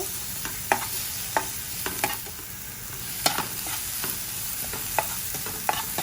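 Garlic stirred and frying in a pan as the base for thick Vietnamese crab noodle soup, a steady sizzle with irregular scraping stirs of a utensil throughout, close and alone without talk.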